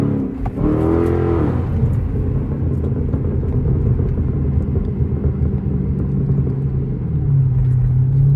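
A Chrysler 300 accelerates while driving on a street with a weak right tire, its engine rumble rising and holding loud and close, then settling into a steady lower drone near the end.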